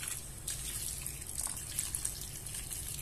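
Water poured into a pan on the stove while cooking squash with fried tuna, a steady close trickling and gushing flow that runs for the whole stretch without any voices.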